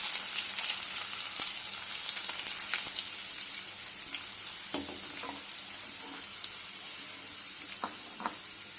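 Oil sizzles steadily as ingredients for a homemade Tamil mixture snack fry in a pan, with a few faint clinks and stirring scrapes over a continuous hiss and no talk.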